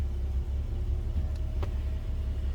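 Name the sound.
1950 Chrysler Windsor engine as clutch is let out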